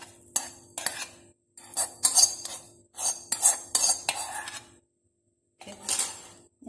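A spoon clinks and scrapes against a bowl while a cooled ingredient is stirred into fermented dosa batter, in several bursts of close, busy metallic clatter with a short pause near the end.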